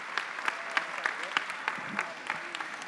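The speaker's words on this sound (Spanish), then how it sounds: "le damos un gran aplauso y la recibimos para este último componente." A seated audience at a family-themed talk session gives soft, fairly distant applause that settles into an even, rhythmic clapping pulse, with light crowd murmur underneath.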